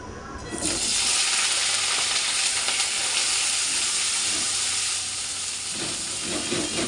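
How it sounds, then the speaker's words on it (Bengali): Loud, steady sizzling hiss of vegetables frying in ghee in a pan, bursting in suddenly and continuing without pause, close and dominant. "যে কুন্দিটা ভেজে নিব আগে"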